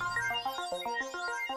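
A synthesized bell ringing effect standing in for the sun's ringing, a rapid run of clear tonal strikes stepping downward in pitch, moderately loud and alone.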